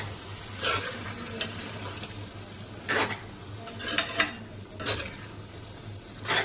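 Prawn masala is stirred in a pan over heat, with intermittent scraping and sizzling bursts from the spatula at irregular intervals and a low steady frying hiss between them; no voices.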